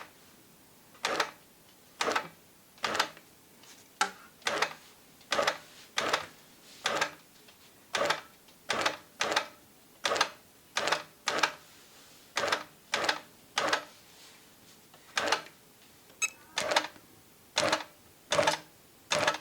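A long arm quilting machine stitches in steady rhythmic bursts, each a short burst of rapid needle clatter separated by brief pauses, repeating regularly and close by.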